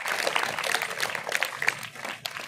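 Audience at a school speech competition clapping for the prize winners, a dense, steady wash of many hands at close range for the whole stretch, with a few sharper claps standing out.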